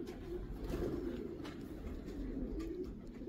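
Racing pigeons coo softly and repeatedly in a loft, low throaty calls overlapping in a steady murmur at close range with light background noise.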